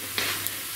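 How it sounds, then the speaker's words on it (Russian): Thin pancakes fry in a hot pan with a steady sizzle, and two small spits of oil pop up within less than a second. "А Дашуня жарит блинчики."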